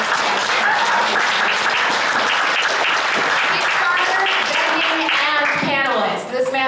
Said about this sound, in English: Can we just give this guy a huge round of applause